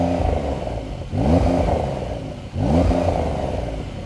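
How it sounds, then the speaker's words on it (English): A 2020 Porsche 911's turbocharged flat-six revs twice in quick succession, each blip rising sharply and then falling away, loud and close with no talk. "So this is what the new car sounds like."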